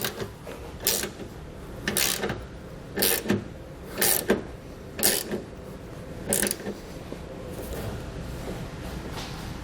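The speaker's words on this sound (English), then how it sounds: "for the bolt that's attaching the tube step to the bracket, I'll put that 19 millimeter back on" A 19 mm socket driving the bracket bolt of a Westin Platinum Series oval nerf bar on a 2019 Ram truck, heard as a series of short, evenly spaced ratcheting clicks from close by, then a steady lower hum.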